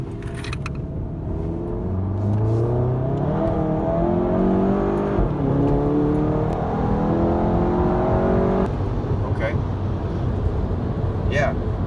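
A Volkswagen Golf GTI Mk7 engine with a tuned DSG gearbox revs up and climbs through gears with quick, smooth shifts, a loud close-up rumble and whine, with occasional talk over it.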